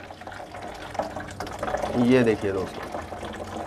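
Hot water at about 70 degrees gushes steadily from an electric geyser tap, swelling louder midway as the flow is opened further, while someone speaks briefly over the running water.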